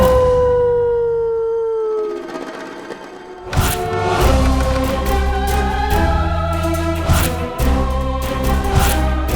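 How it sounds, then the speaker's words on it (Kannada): A dog howls at night in front of a house. One long, mournful howl slides slowly downward, fairly close and loud, before dramatic music swells in and takes over. "ನಾಯಿ ಅಳ್ತಾ ಇರೋ ಹಾಗೆ ದನಿ ಮಾತ್ರ ಕೇಳಿಸ್ತಾ ಇತ್ತ."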